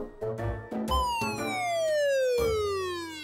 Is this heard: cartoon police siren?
yes